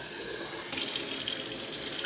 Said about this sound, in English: you're just gonna rinse it out a little hot water